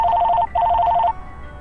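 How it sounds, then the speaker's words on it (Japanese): A telephone rings in the video game LaKe, two loud electronic trilling bursts separated by a short gap, clear and close with nothing else behind them. "電話ですよ。"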